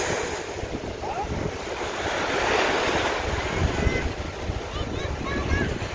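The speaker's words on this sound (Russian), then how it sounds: "Волны сегодня более-менее нормальные," Moderate ocean waves wash onto Sunny Isles Beach in Florida, a faint, soft surf roar that swells and eases under steady wind buffeting on the microphone.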